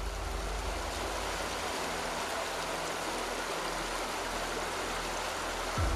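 Water of the Cidurian river in Indonesia rushes steadily, a dense broadband hiss of flowing current that stays constant and loud throughout with no voices.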